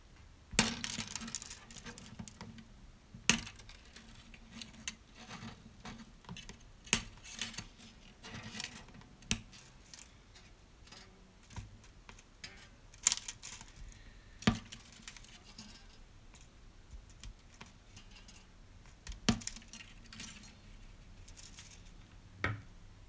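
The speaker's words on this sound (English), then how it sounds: "Next, I'm just going to take my wire cutters and by the sound hole, I cut each string." Wire cutters snip through acoustic guitar strings by the sound hole, giving sharp metallic clicks spaced a few seconds apart, roughly eight cuts over a faint background with no talking.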